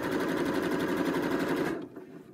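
A basic sewing machine stitching a smocking row, a rapid even rattling hum for nearly two seconds that then cuts off, leaving quiet room sound.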